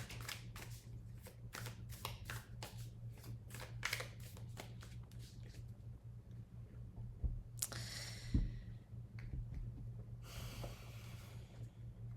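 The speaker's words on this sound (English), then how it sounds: "They just want me to shuffle them and like pull them." Tarot cards shuffled close by in quick riffling flicks for several seconds, then a pause and a few softer card shuffles and slides, with faint breathing and no speech.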